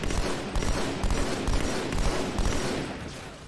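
Sustained rapid gunfire in Halo 2, a dense fusillade of close, loud shots firing continuously with a rolling rhythm and no pauses.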